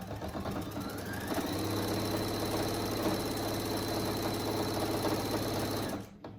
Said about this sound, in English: let's go ahead and start sewing our straight stitch all the way around